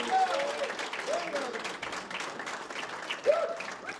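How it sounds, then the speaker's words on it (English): An audience claps for a Blue Angels documentary panel, a steady, moderately loud round of applause with whistles and cheers cutting through, and a voice speaking briefly over it. "let's give one more round of applause for these guys for being out here today"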